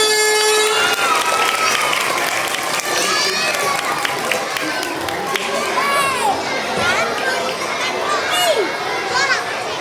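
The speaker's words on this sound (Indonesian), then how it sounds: "Kita sambut Kak Kempo dengan tepuk tangan yang meriah." Schoolchildren at an elementary school Islamic New Year gathering clap and shout together, a loud, continuous crowd roar of applause with excited young voices calling out over it.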